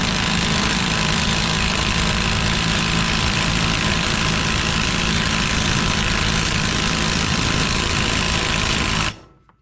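An AOBEN cordless 1/2-inch impact wrench runs in reverse to back out a hard-driven bolt. It makes a loud, steady, dense mechanical hammering for about nine seconds, then cuts off abruptly.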